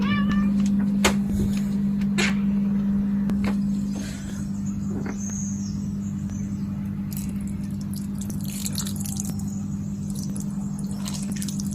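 A cat meows after being shut outside while plants are watered, with several clear meows over a steady background hum and faint watery trickling.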